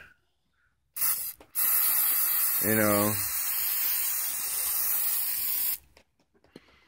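A steady hiss of engine degreaser sprayed from an aerosol can onto a car part runs for several seconds, close by, with a brief voice speaking over it.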